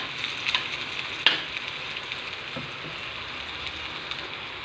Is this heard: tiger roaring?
no